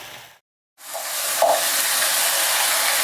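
Chopped chicken dropped into a pan already holding browned potato sets off a steady loud sizzle, which follows a brief silent gap and a short hiss burst as the pieces land.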